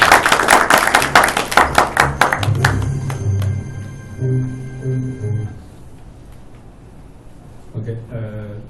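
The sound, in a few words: applause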